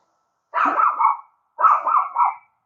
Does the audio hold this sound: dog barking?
yes